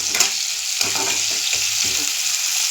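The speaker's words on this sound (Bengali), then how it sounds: "দেখো পেঁয়াজটা ভাজা বসিয়ে দিলাম" Onions fry in a pan over home cooking heat, giving a loud, steady sizzle broken by soft scrapes of stirring.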